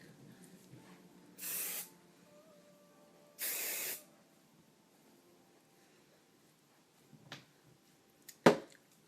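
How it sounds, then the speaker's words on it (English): Two short bursts of aerosol spray hiss, each about half a second, close by, followed by quiet and a sharp knock. "You don't want to spray a whole lot of spray on your hair"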